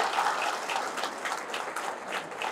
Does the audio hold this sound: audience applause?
yes